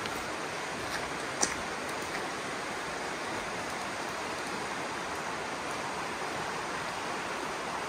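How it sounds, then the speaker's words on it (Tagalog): Rain falls in a forest as a dense, steady hiss, getting heavier while mushroom foraging, with no voices and only a faint tick or two standing out from the wash. "Uwi na po tayo dahil medyo lumalakas po ang ulan."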